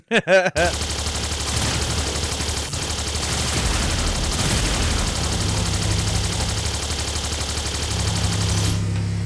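Rapid homing plasma shots fire continuously in the side-scrolling game Terminator 2D: No Fate, a dense, steady barrage of gunfire that runs nearly unbroken over game music and sound effects.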